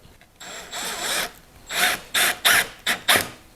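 Milwaukee M12 FUEL drill-driver driving screws, a close whirring motor in a longer run followed by several short, quick bursts.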